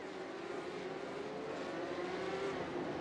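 Porsche Cup race cars rolling at Daytona in a racing video game, a steady droning engine roar from a pack of cars, held at an even level throughout without talking.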